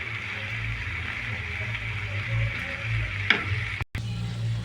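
Ingredients for pongal sizzle in a pan over a low flame, a steady close crackle with faint stirring scrapes and a brief clink, and no talk.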